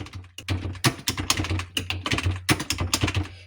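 Rapid, uneven keystrokes on a computer keyboard, close and clear, with bursts of clicks and occasional heavier key thunks, alone without talk.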